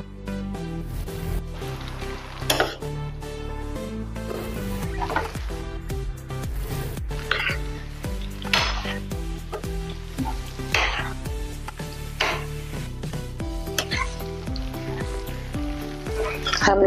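Spices with coriander powder sizzle and fry in a pan for a spicy eggplant dish while a utensil scrapes and stirs in repeated sweeps, with background music playing throughout.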